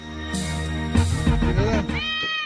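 A cat meows repeatedly up close, drawn-out wavering cries that rise and fall, ending in a long, high plaintive meow.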